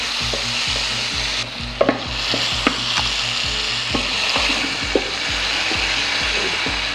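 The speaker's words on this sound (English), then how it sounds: "These tomatoes are frying gently in a mixture of olive oil and animal fat" Tomatoes fry in olive oil and animal fat with a steady sizzle, a spoon repeatedly scraping and stirring in a regular rhythm, a few sharp pops and taps, close by.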